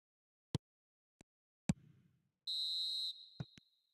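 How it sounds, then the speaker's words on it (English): A referee at a football match gives one sustained, shrill whistle blast lasting about half a second, with a few sharp isolated knocks before and after it in otherwise quiet surroundings. "Referee looks at his watch and blows his whistle."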